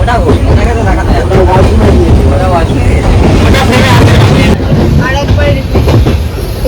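Saraighat Express passenger train in motion, a steady loud rumble and rattle of carriages running continuously beneath nearby voices talking throughout.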